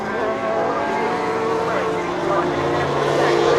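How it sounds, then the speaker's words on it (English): Race cars with 1000cc four-stroke motorcycle engines scream past at Croft circuit in a continuous loud drone, with a commentator talking over the noise. "Great noise these 1000cc 4-stroke motorcycle engines produce"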